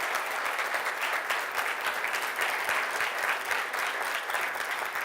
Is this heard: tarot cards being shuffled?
no